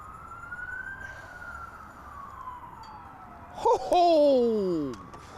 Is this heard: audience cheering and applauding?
no